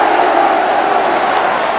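A rugby crowd at Lancaster Park roars in a steady, loud wash of cheering and shouting, with no distinct voice above it.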